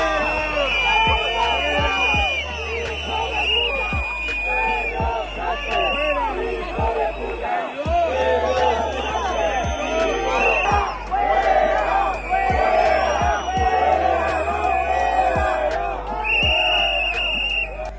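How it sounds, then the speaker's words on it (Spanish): Large crowd at Spain's 12 October military parade near Plaza de Neptuno in Madrid, booing and shouting in loud continuous waves with whistles and chanting rising over the hubbub. "La tribuna presidencial, puesta a las inmediaciones de la Plaza de Neptuno, ha estado marcada por los gritos, por los abucheos, incluso por los improperios."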